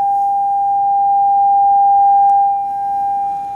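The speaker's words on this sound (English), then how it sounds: "Just adjusting it to make sure it's 800 hertz." A steady 800 Hz sine test tone for an interference demonstration holds one pure, unbroken pitch at constant loudness throughout, with no other sounds.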